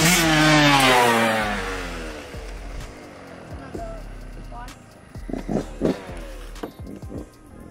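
A Yamaha YZ125 two-stroke dirt bike, a 2022 model, revs loudly and close at first, its engine note rising and then fading as it moves away, with people talking over the later part and a few sharp bursts near the end.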